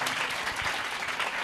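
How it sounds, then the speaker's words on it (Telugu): A church congregation claps loudly together, a dense burst of applause lasting a moment and filling the space evenly. "గట్టిగా చప్పట్లు కొడతాం."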